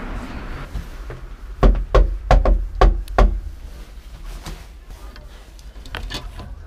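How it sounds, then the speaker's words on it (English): Knuckles rap on a house's front door in two quick clustered bursts of about six close, loud knocks, followed by a fainter knock or two, with no talking. "gonna knock on the door"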